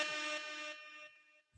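An air horn sound effect blares loud and sustained for about a second, then cuts off, heard alone.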